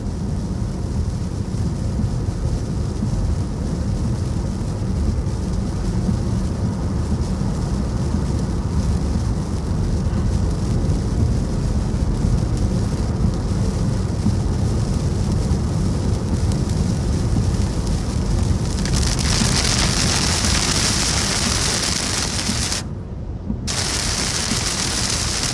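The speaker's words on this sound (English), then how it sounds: "Starting to get into that heavier rain" Heavy rain pours down steadily during a drive through a severe thunderstorm in Upstate South Carolina, a dense, continuous roar that swells brighter near the end with a brief dip.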